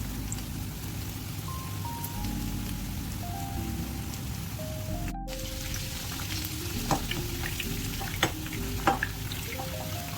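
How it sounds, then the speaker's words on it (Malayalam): Crispy chicken pops fry in a pan of oil, a continuous rain-like sizzle with scattered pops, steady and close, under a faint musical background. "ഏകദേശം ഒരു 10 മിനിറ്റിനടുത്ത് തന്നെ ഞാൻ ഫ്രൈ ചെയ്തിട്ടുണ്ട്."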